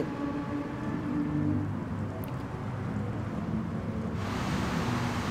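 Rain falling during a race at the Red Bull Ring in Austria in the Gran Turismo Sport video game, a steady, dense hiss and wash that holds evenly throughout, with no talk over it.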